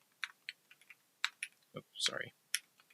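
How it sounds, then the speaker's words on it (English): Sporadic clicks on a computer keyboard, a handful of separate keystrokes at close range, with someone briefly speaking between them. "I can type anyway."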